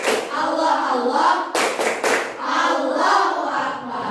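Children in a classroom chant together, then break into a short, rhythmic burst of sharp hand claps mid-chant before their voices resume.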